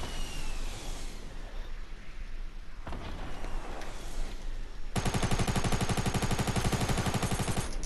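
Heavy video game gunfire in a shooter match with grenade launchers in use, dense rattling bursts that swell into a loud continuous barrage in the second half, no voices over it.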